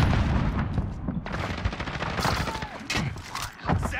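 Rapid automatic gunfire rattles in bursts during a Call of Duty Modern Warfare match, loud, close, dense volleys of shots with brief gaps.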